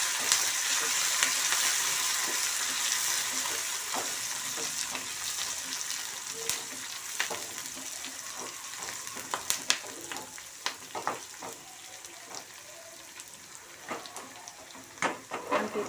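Tempering spices such as chillies and curry leaves sizzle in hot oil, a steady close frying hiss with scattered crackles and pops that grow sharper toward the end, with no talk over it.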